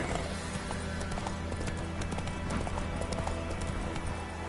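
Roach, a horse in The Witcher 3, gallops in a steady rhythmic clip-clop of hooves that carries on without a break at moderate loudness over a low, constant background hum.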